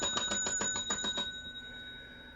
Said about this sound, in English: I'm supposed to hear a bell, I think.